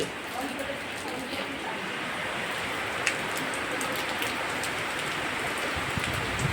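Sudden rain falls steadily in a broad, even patter all around, with a voice talking over it.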